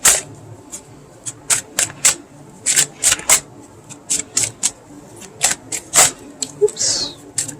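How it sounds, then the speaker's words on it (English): Stiff tarot cards being shuffled in a run of quick, sharp riffling snaps and taps, irregular and close, with occasional soft handling noise between the bursts. "Oh, these cards are so hard to shuffle."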